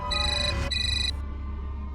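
A phone ringtone trills loudly in two bursts, then cuts off, leaving a low background hum.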